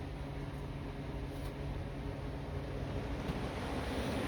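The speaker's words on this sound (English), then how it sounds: "Turn this fan on too." Window fan switched on and running upstairs in a room, a steady broadband whoosh of moving air with a low hum, constant and fairly close throughout.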